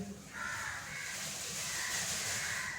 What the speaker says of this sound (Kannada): ಇದು ಈ ಹಕ್ಕಿನ ಶಕುನದ ಹಕ್ಕಿ ಅಂತ ಹೇಳ್ತಾರಂತೆ ಶಕುನ ಹೇಳೋ ಹಕ್ಕಿ ಅಂತ ಹೇಳ್ತಾರಂತೆ